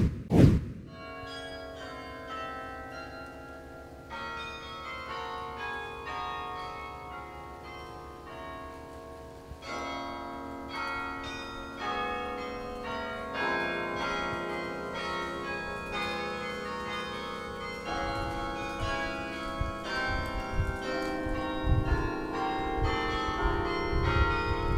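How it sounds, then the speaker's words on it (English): Carillon bells ring out a slow melody of overlapping struck tones, one heavy strike opening and then layered, sustained chimes building steadily in fullness, with no talking. "A carillon is a musical instrument."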